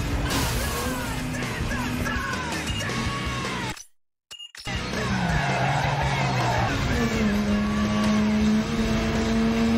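A car racing in Need for Speed Underground 2 through a greenhouse area, its engine tone rising and falling loudly with tire skids, broken by a brief dropout near the middle, with a voice speaking over the game sound.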